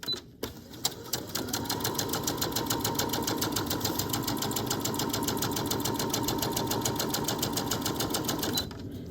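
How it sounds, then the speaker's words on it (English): A sewing machine runs a straight stitch a quarter inch from the edge of quilt fabric, a fast, even mechanical chatter that starts after a couple of clicks, holds steady for about eight seconds, then stops. "I'm taking a 1/4 inch in from the very edge to stitch, and here comes our straight stitch."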